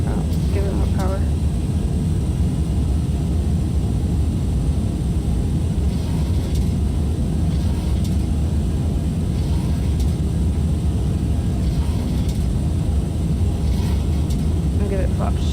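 Engines of a Boeing 727-200F cargo jet in a flight simulator, a steady, loud low roar and rumble that runs unbroken throughout, with faint clicks on top and no talk.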